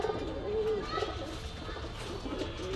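Pakistani high pigeons coo nearby in a few soft, throaty repeated calls over a low background hum.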